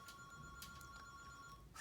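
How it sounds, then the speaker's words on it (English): A telephone rings with a faint electronic warbling tone, quiet and steady with a couple of brief bursts, and no one talks over it. "I'll just ignore the phone"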